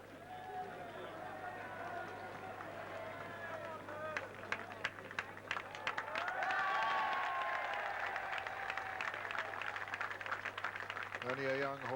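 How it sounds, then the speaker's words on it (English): The Cheltenham crowd applauds and cheers the Gold Cup winner, a young steeplechaser, with a broad distant swell of clapping and hubbub rising midway, as a commentator talks over it. "receive the acclaim of the Cheltenham crowds after winning Steeplechasing's Classic"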